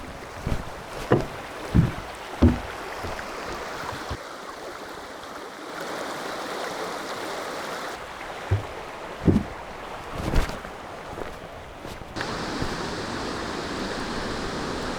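Water rushes steadily over a dam with a big cascade, a broad continuous roar outdoors with wind buffeting the microphone and a few soft knocks and thumps nearby.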